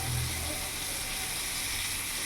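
A large, thick silver carp fish frying in hot oil gives off a steady, even sizzle with a soft continuous hiss, close and constant throughout.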